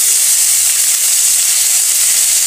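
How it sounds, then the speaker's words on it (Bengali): Chopped onion and garlic hit hot oil with dried chillies, giving a loud, continuous close sizzle without a break. "এবার আমি এখানে অ্যাড করব পেঁয়াজ কুচি"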